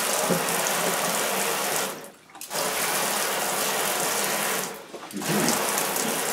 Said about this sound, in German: ich drehe das Wasser auf